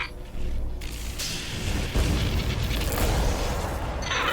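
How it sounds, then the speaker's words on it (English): Old rusty military system in Destiny 2 with frayed wires, switched on: mechanical clunks and creaks followed by a booming rumble and rising grinding machinery, loud and dense with sharp pops near the end. "When I flip this switch, expect trouble"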